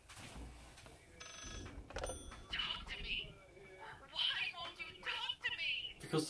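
A telephone rings in the horror video game Layers of Fear, a repeated electronic ring in short bursts, with people talking and exclaiming loudly over it.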